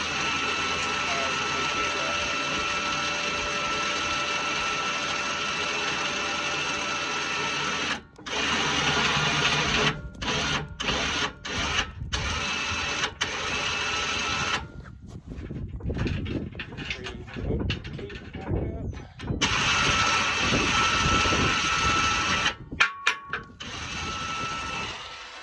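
A cable winch on a Ford Ranger reels in cable with a continuous whirring, ratcheting mechanical drone, steady and loud, broken by several brief pauses and stutters toward the end, with some talking underneath.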